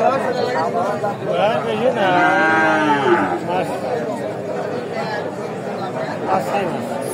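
A five-to-six-month-old Friesian calf lets out a loud, drawn-out moo at a busy cattle market, rising over a constant murmur of crowd chatter and nearby voices.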